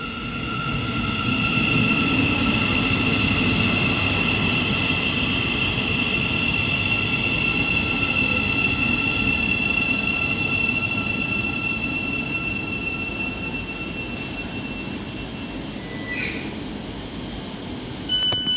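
A Class 700 electric train rumbles steadily past up close at Hitchin station for a long stretch, with a whining motor tone and a brief wheel squeal near the end.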